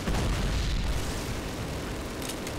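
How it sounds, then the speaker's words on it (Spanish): A heavy explosion in the Call of Duty campaign, a loud, continuous low rumble with broadband roar that stays dense and forceful throughout, with no voices. "no es normal que me haya matado esa explosión"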